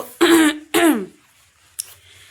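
A person with a cold, taking cough medicine, gives two harsh throat-clearing coughs close up, followed by a short faint cough after a pause.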